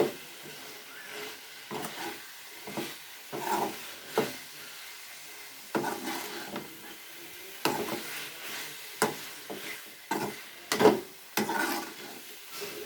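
Chili powder masala for a mango egg curry frying in a pan while a spoon stirs it, giving repeated scraping strokes every second or so over a faint, steady sizzle, close up and with no talking.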